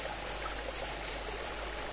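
Outdoor stream water flowing steadily, a continuous soft trickling wash at moderate distance with no voices, recorded by a creek while searching for knife-sharpening stones.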